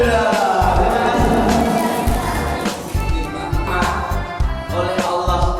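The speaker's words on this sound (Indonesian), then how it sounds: "Tepuk tangan dulu." Children at a storytelling session clap together in a sustained burst of applause, loud and close, with rhythmic overlapping claps running for several seconds.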